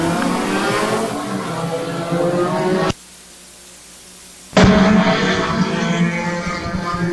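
Loud roaring engines of several Comp 4 race cars accelerating together at the race start at Brighton Speedway, cutting briefly to near silence before the roar returns, heavy and close.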